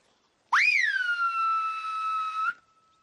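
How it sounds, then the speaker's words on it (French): A loud, clear whistle in the whistled language of the Canary Islands, used by a shepherd to call someone: one sustained tone that rises sharply at onset, then holds steady for about two seconds before stopping abruptly, heard alone with no talk. "Parce que si j'entends ce sifflement, je sais que quelqu'un veut me parler."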